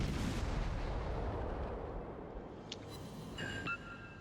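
Warship guns boom in World of Warships, a heavy artillery blast whose rumble fades over a few seconds, followed by faint game interface tones.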